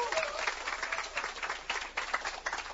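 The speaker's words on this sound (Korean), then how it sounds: "박수 좀 한번 주세요, 여러분." An audience at a Korean business presentation gives a short round of applause, uneven clapping with some murmuring voices mixed in, fairly close and moderate in level.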